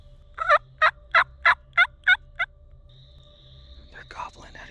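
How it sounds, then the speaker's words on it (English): Wild turkeys gobbling nearby on public land during an opening-day hunt, seven quick rolling gobbles in a run, followed by a faint whine and a softer burst of calls from farther off. "They're gobbling at each other, and we're in the middle."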